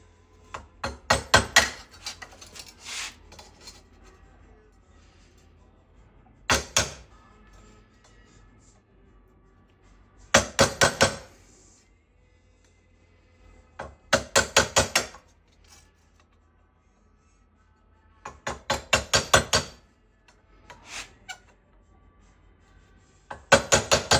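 A hammer taps a seam into a metal patch panel in quick clustered bursts of sharp metallic strikes, several blows per group with pauses between, close and crisp against a quiet room.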